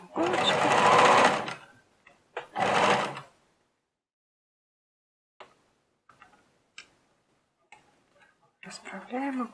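A sewing machine topstitches fabric for a key holder at presser-foot width, with two loud sustained bursts of stitching early on, then a quiet stretch of faint handling clicks and a brief voice near the end.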